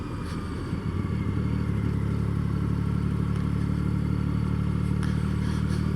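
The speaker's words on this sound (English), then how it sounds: "you are riding with me on board a 2005" A 2005 Triumph Rocket 3 motorcycle rides along with its big engine droning in a deep, steady rumble that settles into an even pitch after the first second, loud and close with constant wind noise.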